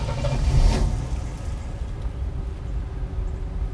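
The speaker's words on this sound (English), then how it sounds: "that is one quiet running car" A 1967 Oldsmobile Delta 88 Custom Sport Coupe idles with a low, smooth, quiet rumble after a brief louder start-up surge, the steady engine hum continuing alone.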